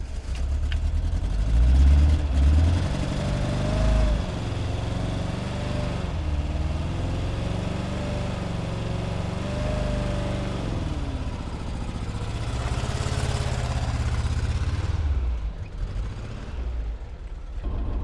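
A manual stick-shift car idles with a steady, low engine drone and a faint wavering whine that hold for the whole stretch before easing slightly near the end. No voices are heard.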